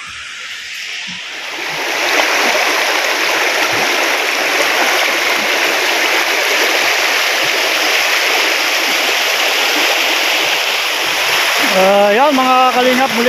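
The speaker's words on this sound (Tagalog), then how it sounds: "Oh, may ilog sapa dito." A river stream flowing in a quiet mountain area of the countryside gives a loud, steady rush of water that swells after a quieter start and runs without a break. A voice comes in over it near the end.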